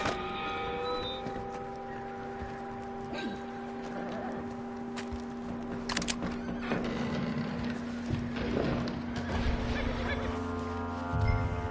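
A horse in Red Dead Redemption 2 gives a long whinny and snorts over clip-clopping hooves in snowy surroundings, with ambient game music tones underneath.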